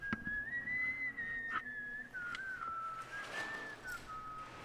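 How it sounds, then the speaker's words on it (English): A janitor whistles a wavering, continuous tune while working in a hallway of an 18th-century building, heard at a moderate distance with faint background noise and no talking. "I was very happy to find out that was the janitor, simply whistling as he worked."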